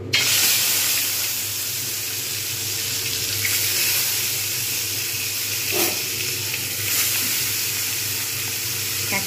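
Pieces of bhetki fish frying in hot oil over lowered heat, a steady broad hiss running throughout with a few brief louder bursts of spatter, close and constant.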